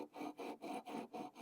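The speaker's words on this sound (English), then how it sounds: "allowing the sanding beam to do its job without applying any excessive pressure" Steady back-and-forth rubbing of a sanding beam over classical guitar frets, six even rasping strokes, soft and close with no talking.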